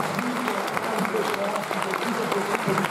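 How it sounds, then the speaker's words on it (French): Applause from a festival audience at the closing night of the Étrange Festival, a dense steady patter of many hands with voices murmuring underneath. "on peut les applaudir"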